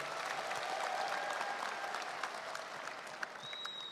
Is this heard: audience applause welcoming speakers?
yes